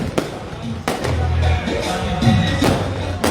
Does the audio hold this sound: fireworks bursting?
yes